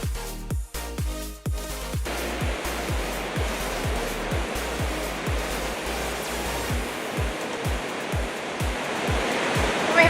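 Hatonduhan forest waterfall in Simalungun, a loud, steady roar of falling water that fills the whole stretch close by, with a few sharp thumps near the start and no talking.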